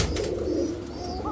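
At a pigeon market, a fancy breed pigeon coos in one low, sustained rolling call, close by and alone.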